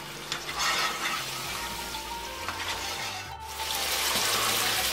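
Goat meat sizzles and fries with black pepper in a pan for Afghani gosht, a steady close crackle and hiss with occasional scraping stirs throughout.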